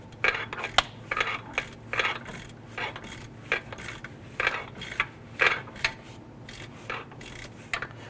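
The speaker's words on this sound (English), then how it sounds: "we're going to tighten down our forward mounted bolts here on the front of the alternator" A ratchet wrench tightening the forward mounting bolts on the alternator of a 2012-2017 Toyota Camry, quick rhythmic bursts of metallic clicking repeating steadily, close up, with no speech.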